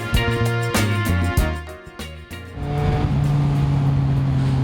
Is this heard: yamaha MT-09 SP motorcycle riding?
yes